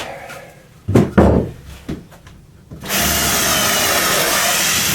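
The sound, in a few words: power drill drilling holes in scrap wood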